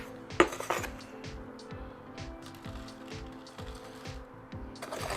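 Small bonsai pot being filled with potting mix over coarse particles, a series of light gritty scrapes and clinks of soil and grains against the pot, close and quiet with no voices.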